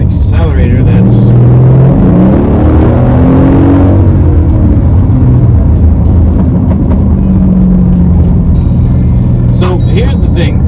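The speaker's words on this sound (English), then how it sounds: "With this particular car, it has a weird way of accelerating." A Mercedes-Benz CLS 550 accelerating: a loud engine rising in pitch with shifting, smooth revs and road roar from inside the car, someone talking over much of it.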